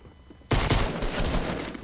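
Dense, loud gunfire in a video game bursts in suddenly and keeps going as a sustained barrage of rapid shots through to the end.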